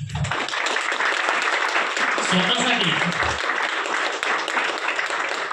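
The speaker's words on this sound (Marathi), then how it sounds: "एकदा स्वतःसाठी एकदा जोरदार टाळ्या होऊन द्या" A seated audience clapping for themselves at a talk, loud, dense applause sustained throughout, with a voice briefly heard over it.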